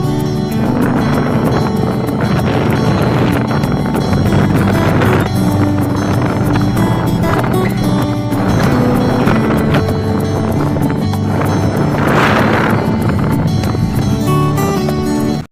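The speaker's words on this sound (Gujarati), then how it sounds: "આ પવનનો અવાજ આવે એમાં મારો અવાજ નહીં સંભળાતો હોય" Strong wind roars continuously against the microphone during an outdoor street cricket game, a loud, dense rushing buffet that persists without a break.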